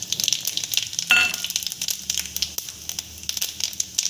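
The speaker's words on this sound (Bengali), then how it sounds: "এবার আমি জিরা ফোড়ন দিয়ে দেবো" Cumin seeds sizzle and crackle in hot oil with whole garam masala (cloves, cardamom, cinnamon) for a Bengali doi katla tempering, a steady bright frying hiss with a sharper burst of spluttering early on, close up.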